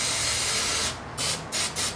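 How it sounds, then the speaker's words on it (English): Fluid Film sprayed from an aerosol can onto the front brakes of a 2003 Chrysler Sebring Coupe, a close, steady hiss with a few short breaks near the end, no talking. "we're gonna take some fluid film."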